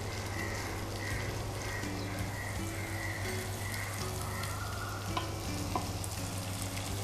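Food fries and is stirred in a pan, a soft steady sizzle with occasional scraping and clinks, fairly quiet, over a low constant hum and some faint background tones.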